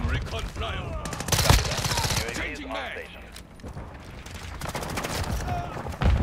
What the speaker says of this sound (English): I'm killing so many people with a shotgun.